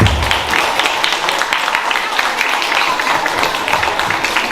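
Sustained, dense applause from an audience of students and guests at a school book fair, steady and fairly loud throughout, with a faint murmur of voices mixed in.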